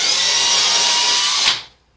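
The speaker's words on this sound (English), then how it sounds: "And I'm just going to drill" A power drill with a 1/4 inch bit bores a hole in a wall for a towel bar anchor. It gives a loud, steady, high whine close up, then cuts off sharply and spins down.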